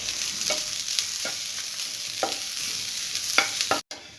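Grated coconut roasting over low heat in a pan, a soft dry sizzle broken by several distinct scraping stirs of a spoon, close and fairly loud, ending abruptly.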